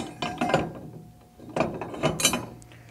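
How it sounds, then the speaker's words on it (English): Close up, a torque wrench ratchets in two short bursts of clicks while tightening an overfill prevention valve onto the inlet nipple inside a spill bucket, separated by a brief pause. "Using the 61 SA tool and a torque wrench,"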